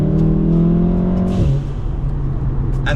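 A Stage 2 tuned VW Golf R engine revs loudly from inside the car, with a steady high engine drone that drops sharply in pitch midway as it downshifts, then settles into a lower rumble.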